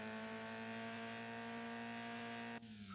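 A steady, droning car engine plays in the video game Turbo Sliders Unlimited. Its layered tone holds constant, then dips abruptly near the end as the pitch shifts, with no voices over it.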